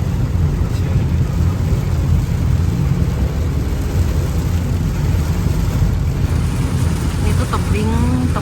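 Heavy storm rain and rumbling thunder surround a car on a highway road trip between Malang and Bekasi, a loud, dense, unbroken roar of rain and road noise from inside the cabin.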